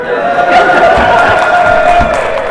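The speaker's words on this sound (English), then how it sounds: "Give us a cheer, yeah?" At a learning technology expo, a crowd gives a loud, sustained cheer with mixed voices and some clapping, a few louder whoops rising above the roar.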